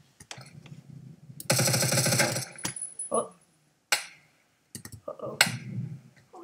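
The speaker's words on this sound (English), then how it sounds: "she shot me with a silencer" Silenced gunfire in the first-person shooter Phantom Forces during a team deathmatch, with a dense rapid burst of muffled shots followed by scattered single cracks and clicks, fairly loud and close, with short gaps of near silence between them.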